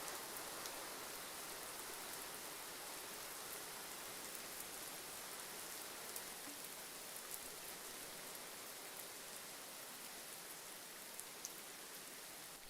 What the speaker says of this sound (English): Raining in Atlanta.